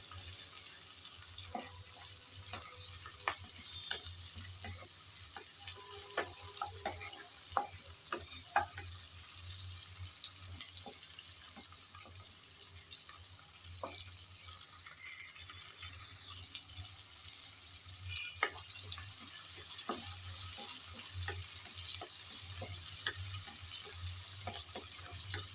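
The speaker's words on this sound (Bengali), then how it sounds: "কিছুক্ষণ নেড়ে চেড়ে চিংড়ি ভেজে নিলাম।" Shrimp fry together with onion in a pan, a faint, steady sizzle broken by scattered light scraping clicks as the mixture is stirred now and then.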